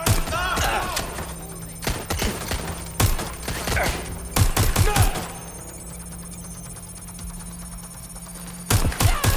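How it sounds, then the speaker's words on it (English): Gunfire in Watch Dogs Legion, several loud bursts of rapid shots separated by quieter stretches of background hum, with a voice shouting briefly in places. "Taking fire! I'm taking fire!"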